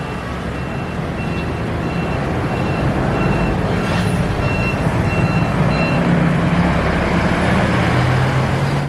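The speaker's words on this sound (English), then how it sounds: "Bus making turns here is crazy" A bus turning through a narrow street in Taiwan, a steady loud engine rumble with road traffic around it, and intermittent reversing beeps repeating throughout, close by.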